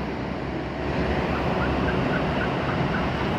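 Pet pigeons call close by over the steady loud whir of a Kenstar Double Cool DX air cooler, their short repeated coos rising faintly through the constant fan noise.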